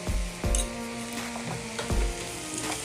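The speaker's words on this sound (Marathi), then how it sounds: "आणि हळदीला पण असं ना तेलामध्ये चांगलं भाजून घ्यायचं आहे." Turmeric and a pinch of asafoetida roasting in hot oil in a pan make a steady, close, crackling sizzle that runs throughout, with a few soft knocks from stirring.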